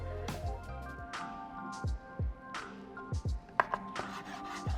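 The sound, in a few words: knife cutting braised pork belly into pieces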